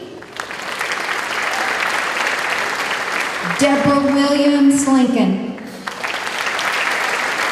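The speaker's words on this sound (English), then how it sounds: "Give these support personnel a round of applause" A school staff assembly crowd applauds support personnel, steady dense clapping throughout while a voice reads out a name over it, with a brief tonal sound in the middle.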